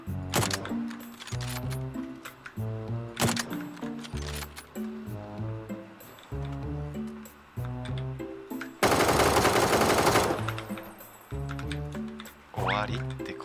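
Rapid bursts of automatic gunfire come from the video game PUBG, repeated loud shot volleys with brief pauses and a noisy rush partway through, while players talk.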